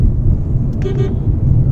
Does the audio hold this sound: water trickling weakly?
no